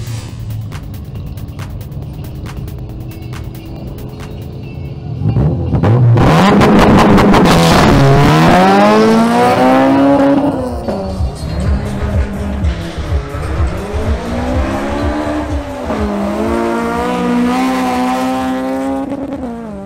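A BMW M240i launches down a drag strip, engine revving loud and close with rising gear-by-gear sweeps and shifts, tires and crowd noise around it.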